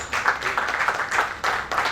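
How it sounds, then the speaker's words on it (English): An audience at an institute investiture ceremony claps for the event's chairman in a few short, fairly close bursts separated by brief pauses. "Another round of applause for him, please."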